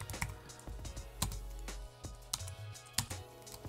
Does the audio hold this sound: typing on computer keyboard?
yes